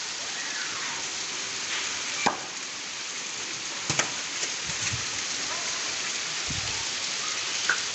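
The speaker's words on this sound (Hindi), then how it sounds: "आज़ाद कश्मीर मंगला में बारिश हो रही है बहुत तेज़।" Heavy rain pours steadily in Mangla, Azad Kashmir, a dense continuous hiss with a few sharper knocks and thuds scattered through it, filling the whole stretch without talk.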